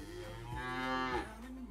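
Cow mooing in the farming game Ostriv, one close, loud, drawn-out moo that rises and then drops off, heard alone with no talk.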